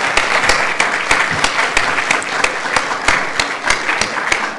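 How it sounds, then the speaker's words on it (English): A seated event audience gives a loud, lively round of applause to a panel, with many overlapping hand claps and a few sharp individual claps standing out, continuous for nearly five seconds. "Can we give our panel a round of applause again?"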